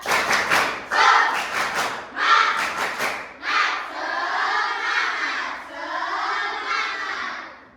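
Schoolchildren in a religious education class perform a rhythmic spirit clap, bursts of sharp group claps in patterned sets followed by loud chanted shouts in unison, close and energetic.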